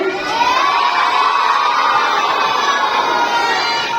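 Children shouting and calling out together in a classroom, a steady loud wall of young voices with no pauses, filling the whole moment.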